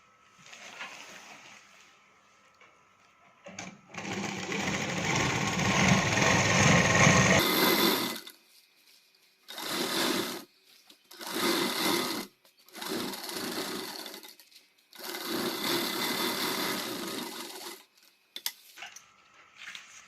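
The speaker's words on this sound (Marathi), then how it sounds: "अशी 1/2 इंचाची मशीन टीप टाकून घ्यायची." An electric sewing machine runs a half-inch seam on a katori blouse in several bursts: one long whirring run, then shorter stop-start stitching passes separated by silent pauses, close and loud with no talking.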